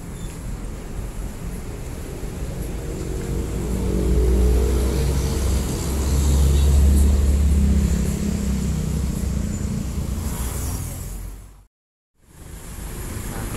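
A Hino RK8 tourist bus engine rumbles in a deep, steady drone heard from on board, swelling louder twice before dropping out abruptly to near silence and then returning.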